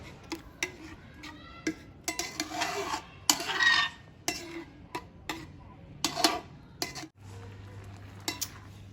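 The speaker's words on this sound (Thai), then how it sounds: "ไปแล้วก็คน ให้เข้ากัน" A spoon stirs a Thai mackerel and coconut-milk chili dip, clinking and scraping against the pot in irregular bursts of close, crisp taps with short pauses.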